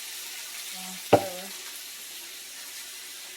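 A splash of water hits a hot pan of lobster tails, cut side up, bursting into one sharp hiss that quickly settles to a faint, low sizzle. A brief voice sound comes just before it.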